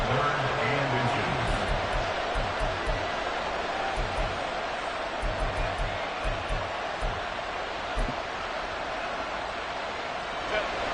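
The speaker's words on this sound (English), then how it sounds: "This crowd trying to force a false start here." Football stadium crowd roaring loudly in a sustained, steady wall of noise before a third-and-inches snap in a Herbert-led game, with a commentator talking over it.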